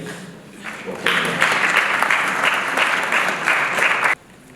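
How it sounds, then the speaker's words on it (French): Applause from mourners at a funeral service, starting faintly, then swelling into loud, sustained clapping from a gathered crowd for about three seconds before cutting off abruptly. "Sous vos acclamations, nous appelons son petit-fils, Julien."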